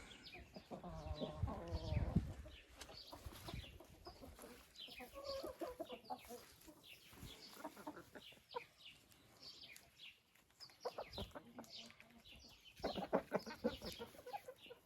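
Hens working in a greenhouse cluck and squawk in repeated bursts, close and fairly loud, with scattered rustling and pauses between calls.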